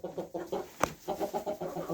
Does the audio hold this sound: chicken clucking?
yes